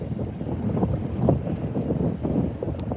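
Wind gusts buffet the microphone as a continuous low rumble on Lake Lanier during bass fishing from a boat, with faint water movement underneath.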